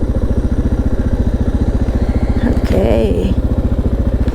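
A single-cylinder motorcycle engine, a Suzuki DR650 or KTM, thumps steadily at a close, loud, even idle-like pace, with a brief voice speaking over it midway.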